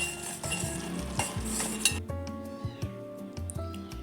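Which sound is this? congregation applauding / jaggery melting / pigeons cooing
jaggery melting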